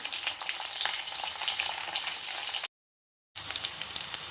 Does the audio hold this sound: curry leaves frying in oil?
yes